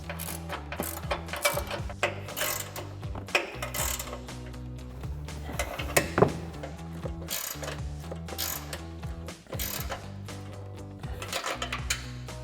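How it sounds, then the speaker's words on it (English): Ratcheting wrenches, 18mm and 21mm, tightening a bolt and nut on a 2014-2020 Ford F-150 coil-over suspension lift kit: close, steady bursts of metallic clicking with brief pauses between strokes, no talk. "we can get an 18mm ratcheting wrench on our bolt side and a 21mm ratcheting wrench on our nut side"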